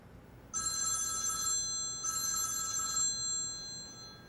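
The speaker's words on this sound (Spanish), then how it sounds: "Contesta el teléfono, hija." Telephone bell ringing in two bursts of about a second each, separated by a short pause, loud and clear over quiet room tone in a dubbed Turkish film scene.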